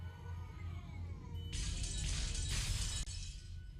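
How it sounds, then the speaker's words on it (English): Heavy bashing, crushing and smashing fills a mansion in the visual novel Umineko: When They Cry, a sudden loud burst of crashing and breaking noise over a low droning background, sustained for about two seconds. "The mansion was filled with the sounds of bashing, crushing, smashing, and chewing."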